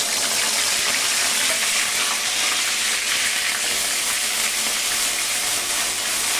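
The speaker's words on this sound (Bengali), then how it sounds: "এবার তেলের মধ্যে আমি পেঁয়াজ, আদা আর কাঁচা লঙ্কাটা একসাথে দিয়ে দিচ্ছি।" Onion, ginger and green chili hiss and sizzle vigorously in hot oil, a loud continuous frying crackle held steady throughout with no voices.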